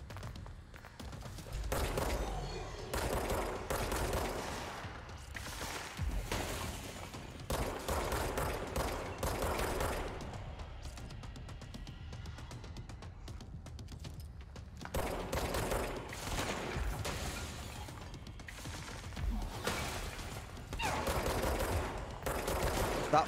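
Enemy gunfire in the action game Control, repeated loud bursts of shots in clusters across the stretch with brief lulls between, close and dense, with faint footsteps and no talking.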